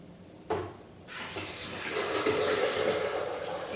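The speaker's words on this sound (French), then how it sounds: "Tu ajoutes les 4 tasses d'eau." Four cups of water poured into a blender or container for homemade nut milk, starting with a splash and building into a steady close-up gushing stream that keeps running to the end.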